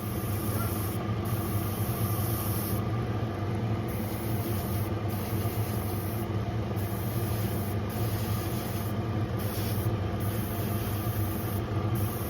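A Mr. Hobby airbrush with a 0.3 mm nozzle spraying paint onto small parts of a 1/43 white metal Lotus 99T F1 car kit; a constant close hiss over a steady compressor hum, broken by repeated short on-off spray bursts.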